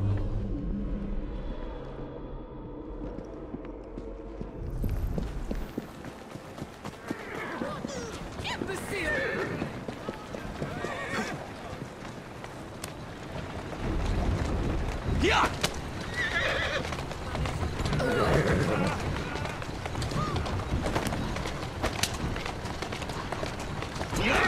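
A horse in the video game Assassin's Creed Syndicate neighs loudly, then its hooves clip-clop at a run with rumbling movement, set among game ambience and steady background sound.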